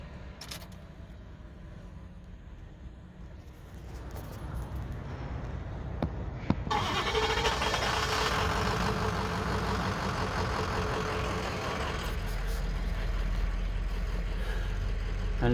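A Ford 6.0 Powerstroke diesel truck with hard-start and rough-running trouble cranks for a long stretch, then catches and settles into a loud, uneven diesel idle heard close by.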